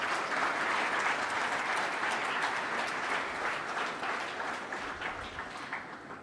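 An audience at an advisory council kickoff event applauds the panelists, sustained dense clapping from a full room that gradually tapers off.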